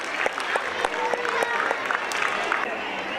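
Audience clapping at an annual gathering program at an Urdu school, a steady wash of applause from a crowd lasting the whole few seconds, fairly loud and continuous.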